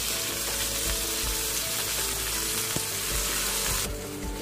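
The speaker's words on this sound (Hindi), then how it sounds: "अदरक लहसुन डालेंगे इसमें थोड़ा सा," Ginger and garlic frying with onions in a pan, a dense steady sizzle that stays loud and close throughout, with no one talking.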